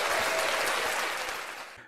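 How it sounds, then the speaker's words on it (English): A round of applause for a beat producer, dense and loud from the first moment and then tapering off gradually over about two seconds, with no voices over it. "I want to give you a round of applause, my guy."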